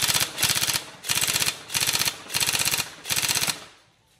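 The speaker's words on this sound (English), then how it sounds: "See, the rate of fire is pretty damn good on this one." Tokyo Marui URGI 11.5-inch NGRS recoil airsoft electric gun with a high-speed motor, fired full auto in six fast, even bursts of rapid mechanical rattling, loud and close, with short pauses between them and no talk.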